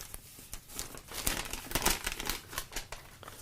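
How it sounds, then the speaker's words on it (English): A cardboard parcel box being opened, with crinkling and tearing packaging rustling close by in irregular bursts, quiet overall and with no talking. "we open up the box here."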